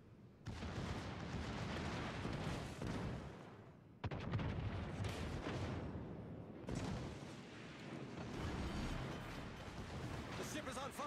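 Naval guns fire in the World of Warships Legends video game in a series of heavy booming blasts with sustained rumbling, cut off sharply twice, while voices talk underneath.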